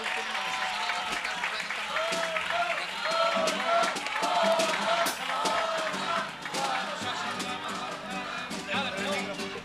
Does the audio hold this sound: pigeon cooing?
no